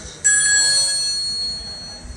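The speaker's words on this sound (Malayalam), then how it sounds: "ഒന്ന് നിർത്ത് ഫോൺ വരാറുണ്ട്" A phone ringing with a steady electronic ring tone that starts abruptly and holds loud and continuous, with no talking.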